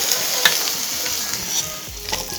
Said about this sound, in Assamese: অলপ সময় এইটো এনেদৰে ফ্ৰাই হওক